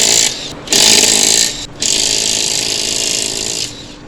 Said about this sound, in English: I carry a impact wrench and socket set, so I can easily remove the lug nuts